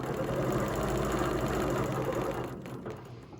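Sewing machine stitching a quilt edge, a steady fast whir of needle strokes running close and loud, then slowing and stopping near the end.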